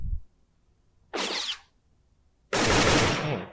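A custom gun fires in a Roblox game, two separate bursts of harsh, noisy gunfire: a short crack-like blast followed after a pause by a longer, louder sustained burst, with near silence between.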